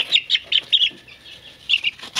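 A young Wyandotte chicken gives a series of short, high chirping clucks close by, in two quick bursts separated by a brief pause.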